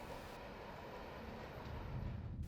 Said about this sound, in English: A 5-unit set of empty intermodal well cars coming out of presumably Winston?